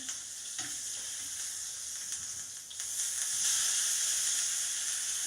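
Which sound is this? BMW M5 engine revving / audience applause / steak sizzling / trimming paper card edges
steak sizzling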